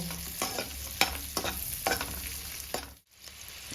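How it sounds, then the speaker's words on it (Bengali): Vegetables for egg chilli fry lightly in a pan over low gas, with a soft sizzle under a rhythmic series of close spatula scrapes and stirring strokes that stop briefly near the end. "প্রায় দু মিনিটের মতন আমি এটা ভাজবো লাল লাল করে ভাজবো না জাস্ট হালকা ভাজবো"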